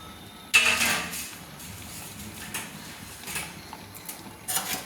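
A spoon stirs payesh, a rice pudding made with milk and grated coconut, in a pot: one sharp metallic clink, then faint scraping and a few scattered taps close by.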